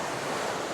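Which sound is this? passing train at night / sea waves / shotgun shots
sea waves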